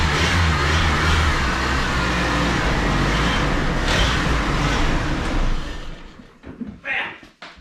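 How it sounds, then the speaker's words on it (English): An old vehicle fitted with a new starter runs loud and close with a steady engine roar that drops off sharply near the end, leaving brief rumbles and bursts. "when you go from an old starter to a new starter, it's one of those things that's like, oh wow, you hear that thing just spin right over"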